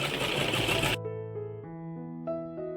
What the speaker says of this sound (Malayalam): അപ്പുറത്തെ സൈഡ് തയ്ച്ച പോലെ നമുക്ക് ഇപ്പുറത്തെ സൈഡിലൊന്ന് തയ്ച്ചെടുക്കാം